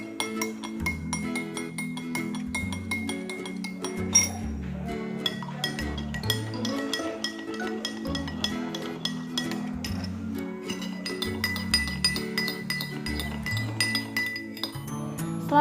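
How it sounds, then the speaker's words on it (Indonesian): Turmeric indicator is stirred into three solutions in glasses, giving repeated close, bright clinks of a stirrer against glass in a steady tapping rhythm over a musical backing, with no talking. "Setelah larutan semuanya dicampurkan oleh indikator alami berupa kunyit, kita aduk secara merata."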